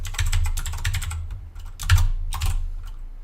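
Rapid typing on a computer keyboard, a dense run of close clicks and key taps with a brief pause midway, then another burst, alone with no talk.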